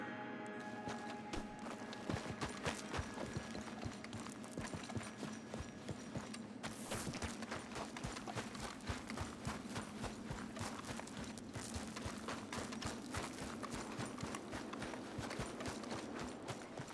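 A horse walks with steady, rhythmic clip-clop hoofbeats in the video game Red Dead Redemption 2. The footfalls are continuous and close throughout, with no talk.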